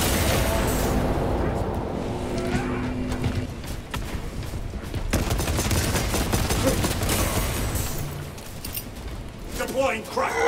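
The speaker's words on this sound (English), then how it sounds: "Deploying crack grenade." Grenade blasts and gunfire crackle through a battle in Warhammer 40,000: Space Marine 2, loud and dense throughout, with bursts of explosions and rattling fire stacked over a rumbling mix.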